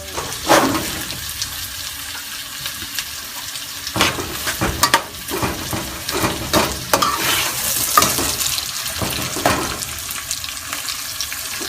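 Chopped onion sizzles and crackles in a hot pot of seafood soup base, with a steady frying hiss and intermittent scrapes and clatters of stirring, close and fairly loud, no talking.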